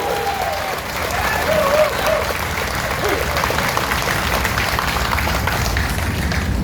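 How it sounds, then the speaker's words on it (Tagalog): A crowd of residents of Pandacan, Manila gives warm, sustained applause at a government event, steady clapping filling the whole stretch with faint voices underneath. "isang mainit na palakpak bilang pasalamat sa MMDA family"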